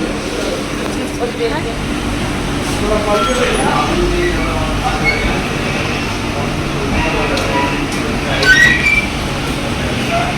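A moving train rumbles continuously throughout, with occasional high metallic wheel squeals toward the end, while people talk close by over the noise.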